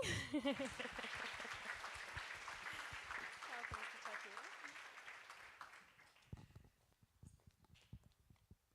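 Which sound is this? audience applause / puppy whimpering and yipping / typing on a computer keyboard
audience applause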